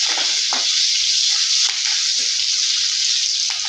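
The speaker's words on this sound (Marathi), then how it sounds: "हिरवी मिरची छान परतून घ्यायची आहे आपल्याला" Green chillies sauté with cumin in a hot pan for sabudana khichdi, a loud, constant sizzle broken by a few sharp pops and stirring scrapes.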